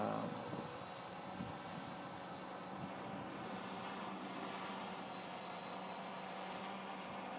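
A Walkera V303 Seeker quadcopter drone carrying a gimbal-mounted action camera flies at sunset, giving off a steady, fairly faint motor whine and whoosh that holds without a break and has no talk over it.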